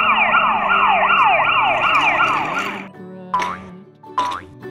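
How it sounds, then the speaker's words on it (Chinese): Toy police car siren from a transforming dinosaur-to-car toy, a loud electronic wailing tone cycling steadily for about three seconds, then cutting off before two short chirpy electronic bursts. "菲利变成了一辆警车"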